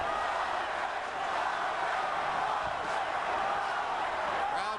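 A boxing arena crowd roars and chants for Fernando Vargas during his fight with Oscar De La Hoya, a steady, dense wash of many voices heard from a distance.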